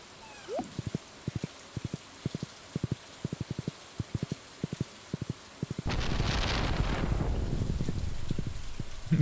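Rain begins falling in a video game, a soft rising hiss of downpour after several seconds of rhythmic tapping footsteps, faint overall and steady at the end.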